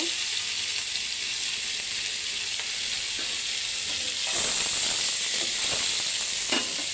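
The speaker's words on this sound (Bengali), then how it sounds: "এবার আমি পেঁয়াজটাকে সুন্দর করে ভেজে নিব" Onions fry in the oil of a pan that was just used for frying fish, for a potato curry with eel. A steady close sizzle runs throughout and swells louder partway through, with no voices.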